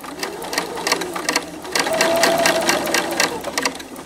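A sewing machine stitches fine-thread appliqué, giving a steady, close, rapid mechanical chatter of needle strokes, with a brief thin whine partway through and a faint voice underneath.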